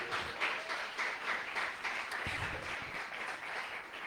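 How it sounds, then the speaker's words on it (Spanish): A church congregation applauds the King of Glory during a Pentecostal service, with steady, moderately loud clapping and a few brief lower thumps mixed in. "¿Cuántos dan un aplauso al Rey de Gloria?"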